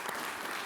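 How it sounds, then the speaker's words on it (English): Audience applause at a talk, a brief burst of dense clapping heard only for a moment. "Big round of applause for that."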